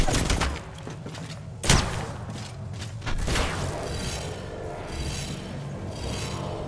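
Gunfire in the Apex Legends video game: a few sharp, loud shots cut through a steady mechanical rasp and rumble of in-game action, with bursts near the start and middle.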